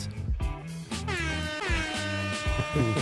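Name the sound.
air horn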